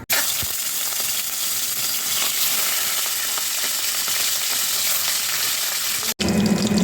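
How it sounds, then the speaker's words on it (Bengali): Fish fries in white oil in a wok, a loud continuous close sizzle with bubbling crackle that holds steady throughout, briefly cutting out near the end, with no talking. "সাদা তেল দিয়ে মাছটাকে ভেজে নেব।"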